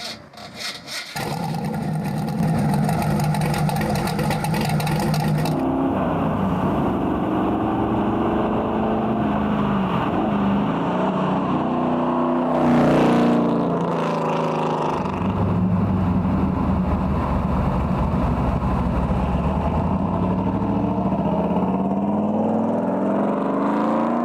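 A deep, throaty De Tomaso Pantera GT5 V8 engine with four exhaust pipes rumbles steadily and loudly, with rising and falling revs and a brief surge partway through.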